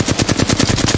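Rapid automatic gunfire from a weapon in a first-person shooter video game: about nine sharp, evenly spaced shots in one second, loud and close, with no talk.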